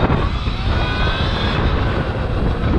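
A Surron Torp TC500 electric motorbike pulls away from a stop at wide open throttle, giving a loud, steady rushing roar with a rising motor whine, close and continuous for the whole stretch.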